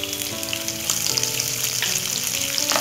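Onion pieces sizzle and fry in hot tempering oil with seeds for a methi and egg masala curry, a steady close crackle with light stirring and no talk.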